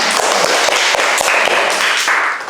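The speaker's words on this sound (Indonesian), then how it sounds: "kita kasih tepuk tangan dulu ya" A seated audience at a university teaching session gives a group of presenters a round of applause: a steady wash of many hands clapping, with sharp individual claps standing out, holding level before easing slightly at the end.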